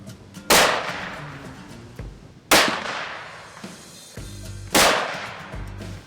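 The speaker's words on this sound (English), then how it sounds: "So I'm going to set up a lead sled that we brought up with us on their makeshift bench here. We're going to get some shooting done." A Bergara rifle chambered in .300 Win Mag fires from a lead sled on a makeshift bench outdoors, giving three loud, sharp shots about two seconds apart, each with a trailing echo.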